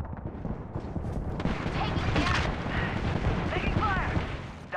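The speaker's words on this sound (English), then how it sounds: "Look out! Grenade!" Grenade blast and gunfire in Apex Legends: crackling shots and a rumbling burst beneath voices, with a swell of noise in the middle before tapering off.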